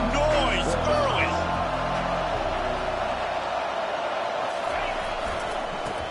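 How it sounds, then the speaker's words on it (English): A stadium crowd at a college football video game keeps up a steady loud roar throughout, with a few whistles and shouts rising over the wash of noise early on. "This crowd bringing the energy and noise early."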